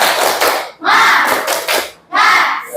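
A classroom of students performs the 'tepuk semangat' clapping chant, three loud bursts of rapid rhythmic clapping mixed with voices, separated by brief pauses.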